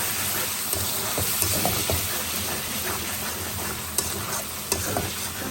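Ground spice paste frying for khichuri, a loud, dense sizzle held steady throughout, with occasional sharp scrapes and taps from stirring in the pan and no talking.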